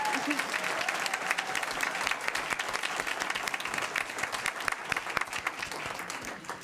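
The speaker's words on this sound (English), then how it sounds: "Can we just one more time give Max a round of applause as he did it his way?" A school board meeting audience applauds a student performer, dense sustained clapping from a sizable crowd, fairly close and steady for several seconds with a faint voice underneath.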